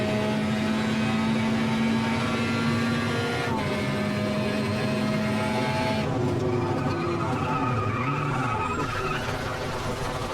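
Ultima GTR race car in the sim racing game Automobilista, its engine droning loudly and steadily throughout, with pitch rising and falling through gear changes and a burst of tire squeal as the car slides near the end.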